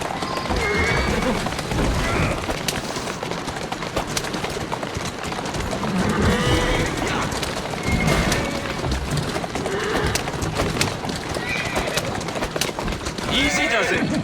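A horse in Assassin's Creed Syndicate whinnies several times while its hooves clip-clop steadily on a street. Birds and light ambient noise sound around it, and someone speaks calmly at moments.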